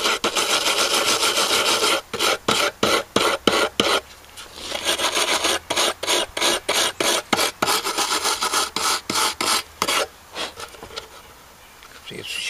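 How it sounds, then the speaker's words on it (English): Coarse 60-grit sandpaper rasps over the rusty metal case of a tube tester in quick, repeated back-and-forth strokes, close and loud, with brief pauses between bursts. "I had to use 60 grit sandpaper on it. It was really covered with rust."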